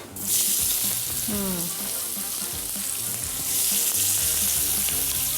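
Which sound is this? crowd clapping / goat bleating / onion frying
onion frying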